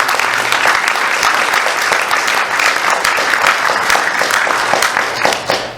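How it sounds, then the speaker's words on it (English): Steady applause from an audience at a South Bend civic event honoring past mayors, dense clapping holding loud and even for several seconds before easing slightly at the end. "let's have another round of applause for the"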